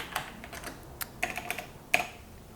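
Quiet, close-up clicks of a computer keyboard as someone types commands, a series of light, irregular keystrokes with a few sharper taps, no talking.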